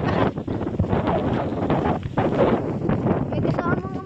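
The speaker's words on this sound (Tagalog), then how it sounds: "Ang lakas ng hangin." Strong storm wind roars and buffets the microphone outdoors near rice fields while a kite flies, loud gusty rumbling with rustling, rising and falling in uneven bursts.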